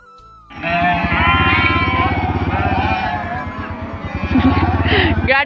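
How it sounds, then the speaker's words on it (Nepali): A motorcycle engine runs steadily with a rhythmic low thrum during a ride in Jumla, Nepal, loud and close throughout, while a person talks over it. "सरको बाइकमा म जान्छु"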